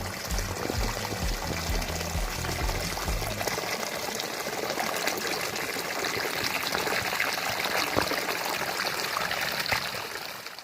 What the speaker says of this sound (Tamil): இப்ப தண்ணி பாஞ்சிக்கிட்டு இருக்குது.